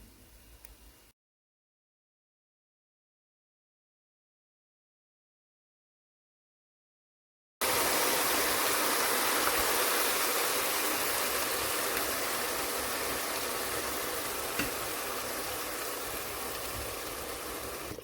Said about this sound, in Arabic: وهلأ رح اضيف مية اللحمة